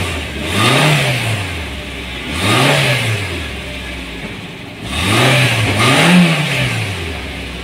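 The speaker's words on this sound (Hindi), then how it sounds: "इसी तरह गाड़ी को रेस देख के चेक कर लिया करें" A 2004 Suzuki Baleno engine with smoking exhaust and worn piston rings is revved repeatedly, four rising-and-falling vrooms over a steady idle, loud and close, with the last two revs coming in quick succession.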